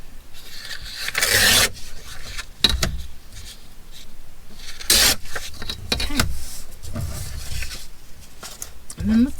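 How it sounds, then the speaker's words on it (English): A paper insert for a flea-market-style traveler's notebook is trimmed down at the sides, giving a few sharp, close scraping and cutting bursts between stretches of a person talking. "And you have to trim down the side a little bit."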